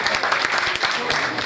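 An audience at an outdoor public event in Sibiu claps loudly for a dancing couple, giving a dense burst of close applause with a few voices mixed in.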